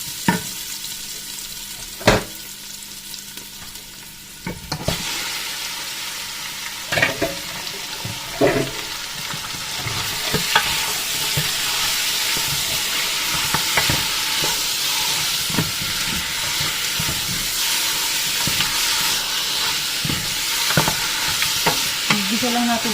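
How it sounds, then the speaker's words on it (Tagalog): Meat sautés in a pan until it browns, starting with a few sharp clanks before building into a loud, continuous sizzle broken by stirring and scraping. "Gisa lang natin ito ng konti mga kabarks hanggang sa mag-brown."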